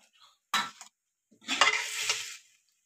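Mixed vegetable curry is dished out from a pot, with two close bursts of spoon scraping and clinking against metal, a brief one followed by a longer scrape, separated by near silence.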